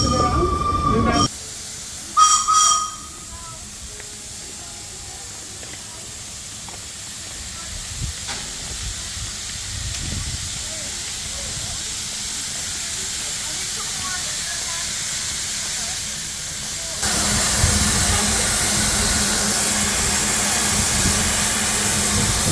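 Heritage train locomotive standing at a platform near St Nicholas Abbey in Barbados, a steady broad hiss of steam running throughout with low rumbling, swelling louder near the end, with a brief voice near the start.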